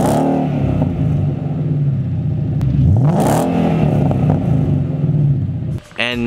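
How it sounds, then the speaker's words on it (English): A 2015 Ford Mustang GT V8 fitted with long tube headers starts cold, then settles into a steady, deep idle with one rev rising and falling midway. The exhaust stays loud and close throughout. "a cold start and a little bit of a rev this morning"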